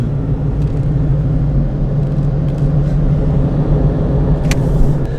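Toyota Tacoma pickup truck driving, heard from inside the cab as a steady low engine and road rumble that holds even throughout, with no voices.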